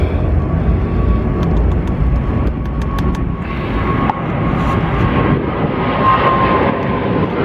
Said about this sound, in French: Et chaque fois un avion qui passe quand je parle.